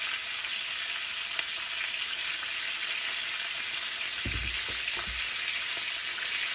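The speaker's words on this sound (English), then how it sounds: "Now that your T-bones have been seared, we're gonna lower the temperature just to medium." T-bone steaks topped with butter sizzle steadily in a hot pan, a constant bright frying hiss throughout with a couple of soft low thumps near the end and no talk.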